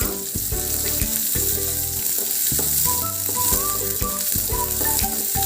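Large chunks of big onion fry in a hot pan for kara chutney, a strong steady sizzle with stirring sounds beneath continuous background music, no speech.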